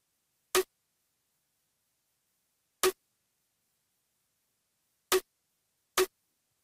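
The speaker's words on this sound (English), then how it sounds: "For our snare, we're going to be using this sound." Programmed snare drum hits from a producer's beat pattern in FL Studio, four short sharp cracks spaced irregularly across silence, dry and isolated.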